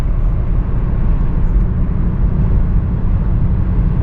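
A 2008 Chevy Equinox cruising on a test drive after an outer tie rod replacement, heard from inside as a loud, steady low road and engine drone.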